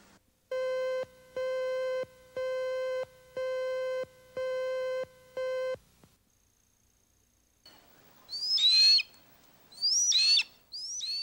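A young red-tailed hawk gives several harsh, downward-slurring calls after a run of evenly spaced electronic beeps and a brief pause. The calls are close and clear, with no voices.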